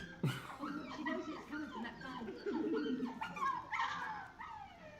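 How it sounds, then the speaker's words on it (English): A tiny puppy whimpers and yips in thin, high, wavering cries through most of the stretch, close by and fairly soft, with people talking over and around it. "It's a tiny puppy!"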